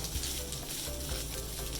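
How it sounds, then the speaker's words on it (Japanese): Steady, close sizzling of shishito peppers stir-frying in a hot pan, with a continuous crackle and no voices. "絶えず鍋をね 振りながら混ぜながら"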